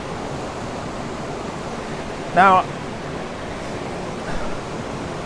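Aber Falls sends out a steady, broad rush of falling water in autumn, heard from a short distance. A voice speaks one brief word over it.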